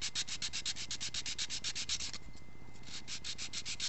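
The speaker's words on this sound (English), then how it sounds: "But you just take the sanding sponge" Sanding sponge rubbed briskly over a rough PLA-printed stone troll figure, a fast steady run of scratchy back-and-forth strokes, close and fairly loud, with a brief pause partway through before the strokes resume.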